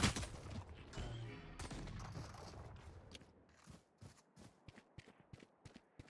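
Gunshots in the game Valorant, a burst of loud sharp firing at the start settling into a rapid series of separate quieter cracks and footstep-like taps toward the end.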